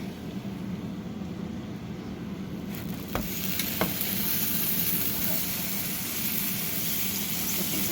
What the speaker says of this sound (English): So that's sizzling a bit. I don't know if you can hear that,